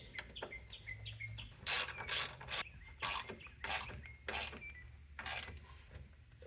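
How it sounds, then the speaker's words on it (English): Two T27 screws driven into the front differential cover of a 2014 Polaris Sportsman 570 ATV, heard as quick bursts of ratcheting and clicking from a nearby hand tool, with a few sharp metallic rasps and quieter gaps between turns. "I'm going to take these 2 T27s screws and put them in on each side"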